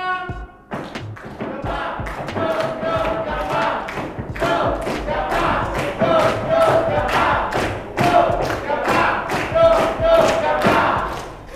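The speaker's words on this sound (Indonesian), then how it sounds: "Ya, beri tepuk tangan kelompok portofolio 1." Applause and crowd noise at a school project showcase for a student group. Rhythmic, heavy clapping beats in unison with cheering voices fill the room for over ten seconds.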